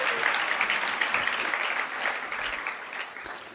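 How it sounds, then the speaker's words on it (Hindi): Audience applause during a sermon at Tilwara Ghat in Jabalpur, a dense, steady patter of many hands clapping close by that slowly tapers off. "तालियां धीरे धीरे बज रही है"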